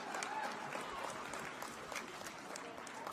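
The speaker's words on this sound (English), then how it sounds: "Can we give a round of applause to Jamie?" A crowd applauds steadily, a dense patter of clapping without a break.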